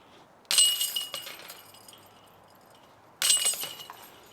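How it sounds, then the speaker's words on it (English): Disc golf discs striking a basket's metal chains: two separate bright metallic clanks, each with a jangling rattle that fades over about a second, close and fairly loud against a quiet outdoor background. "you can't go more than a few holes without the sound of chains"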